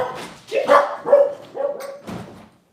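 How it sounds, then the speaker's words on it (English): A dog barks in a back garden, giving about four moderately loud barks and yips in an uneven rhythm, with a whimpering edge and no talking. "I'm going to let the dog out the back garden before she starts barking her head off."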